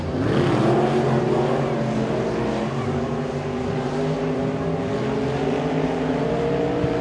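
Race cars lapping at Sabine Speedway, a continuous, loud roar of several engines with shifting pitch as they sweep down the back straight and into the turns, with faint voices underneath.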